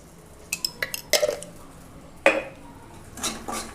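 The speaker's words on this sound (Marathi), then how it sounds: "आता तूप टाकल्याच्यानंतर पण एक दोन मिनिट असा भाजून घ्यायचा" Semolina roasts in ghee in a pan for shira, heard as a few sharp metal clinks and scrapes of a spoon against the pan, spaced out over quiet.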